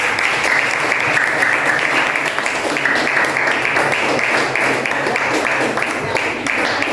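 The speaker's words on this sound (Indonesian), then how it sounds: "tepuk tangan dulu" A classroom full of students clapping steadily, dense and loud applause sustained throughout with no pause.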